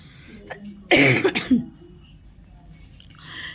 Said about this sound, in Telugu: ఈ దగ్గు జ్వరం ఒకటి మొదలడిందండి